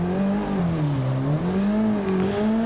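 A car's engine revs hard and holds steady with a slight rise and fall as the clutch is dumped to start a drift, with a faint tire squeal over the drone.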